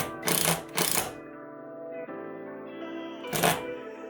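A screw is driven through a blind base into a wall, heard as two short bursts of driving, a quieter humming stretch and then a final burst, close and clear.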